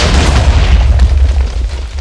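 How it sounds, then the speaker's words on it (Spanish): A TNT bomb detonates in Minecraft, a loud, deep, booming explosion with a rumbling low tail that fades over two seconds, heard alone without any talk. "Ah, hemos activado una bomba."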